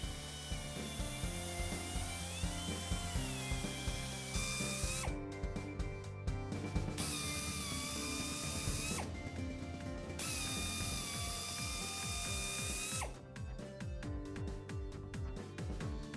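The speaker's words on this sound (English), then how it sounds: "Proper drilling with the appropriate size carbide cutter ensures complete damage removal" A carbide cutter drilling out an injury in a radial truck tire produces a whining motor tone that shifts in pitch, broken by harsh grinding bursts as the bit bites, close and loud.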